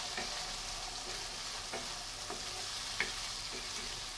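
Boiled chickpeas stirred and fried with spices for chola bhuna, a soft, faint sizzle with light scraping stirs at irregular intervals and one sharper tap.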